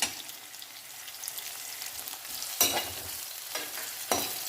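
Finely chopped ginger and garlic frying with onions in hot oil in a pan, a low continuous sizzle broken by a few louder bursts of stirring and spatula scrapes.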